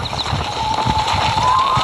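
Horse hooves clip-clop in Red Dead Redemption on PS3, a quick rhythmic trot of muffled thuds under a faint steady tone, close and fairly loud with no voices.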